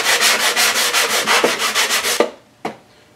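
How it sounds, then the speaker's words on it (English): A 150 grit foam sanding block is rubbed by hand over wood in quick, even back-and-forth strokes, a rhythmic scratchy rasp up close, ending with a couple of light knocks. "so now I'm moving on to the hand sanding part"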